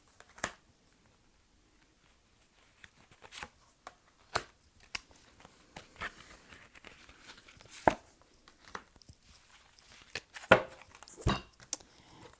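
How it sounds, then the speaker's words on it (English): Tarot cards are spread out and picked from the deck, giving soft scattered papery slides, taps and flicks, close and quiet, irregular and without talking. "I'm going to spread them out and choose cards like this."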